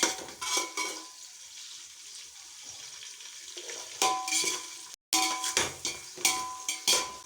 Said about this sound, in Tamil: நல்லா பொன்னிறமாகிற அளவுக்கு நல்லா வதக்குங்க பொன்னிறமாகட்டும்